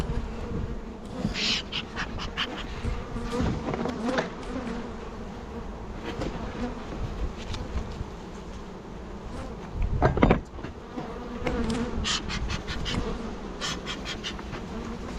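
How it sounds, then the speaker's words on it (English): Bees buzz steadily around hives in a mountain bee yard, a dense close drone with individual insects zipping past the microphone, plus a brief thump of handling midway; no one speaks. "there's some bees up here"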